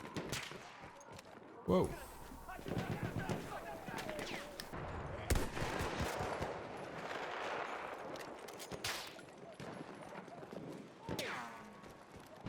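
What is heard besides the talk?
pistol gunfire in Battlefield 1 video game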